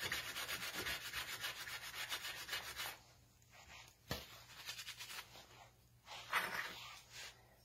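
Abrasive grinding on a knife handle, a faint, uneven rubbing rasp in several passes separated by short pauses.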